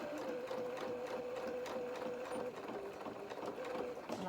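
A sewing machine stitching along the zigzagged edge of a doll's dress bodice: a steady, fast mechanical whirr with a rapid needle rhythm running continuously and close by, with a voice talking over it.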